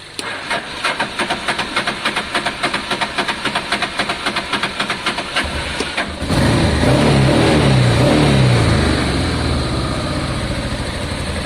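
A Honda Deauville motorcycle engine, freshly started after a carburettor clean, putters in a steady pulsing idle close by, then rises into a louder, continuous rev that holds and eases off slightly.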